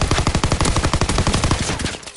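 A Call of Duty WW2 submachine gun fires a sustained rapid burst of evenly spaced loud shots, close and dominant, cutting off abruptly near the end.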